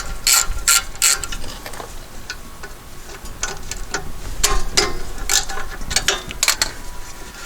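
Rapid ratchet clicks in several close, loud bursts as 14 mm brake caliper bolts are loosened on a 2007 GMC Acadia during a rear brake pad and rotor job.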